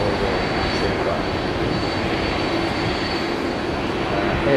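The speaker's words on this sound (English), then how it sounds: "really nice aircraft" A jet aircraft at Haneda airport roars as a loud, steady broadband rumble with a faint high whine, holding at constant strength throughout the clip with no talking.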